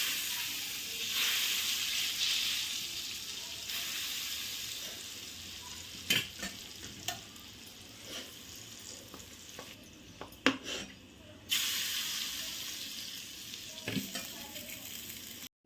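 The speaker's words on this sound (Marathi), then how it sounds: "ही सुरसुरीत फोडणी आपण आता आपल्या चटणीवर टाकून घेऊया।" Hot oil tempering with Kashmiri chili powder is poured over a raw mango chutney in a home kitchen, giving a steady close hiss and crackling sizzle, with occasional sharp clinks and taps of a spoon or pan and quieter stretches.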